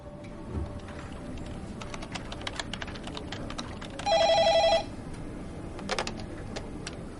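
Computer keyboard typing in an office, soft scattered key clicks throughout, with a telephone ringing briefly near the middle; no talking.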